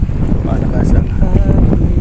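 Strong sea wind buffets the microphone near a boat off Al Reem Island, Abu Dhabi, a constant low roar filling the brief moment with a faint voice under it.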